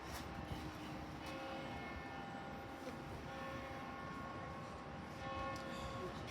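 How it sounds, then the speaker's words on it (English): Church bells ring faintly outdoors during an open-air autumn church service, their sustained tones blending with a steady wash of distant traffic. "Take in the bells."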